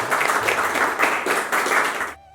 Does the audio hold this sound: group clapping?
yes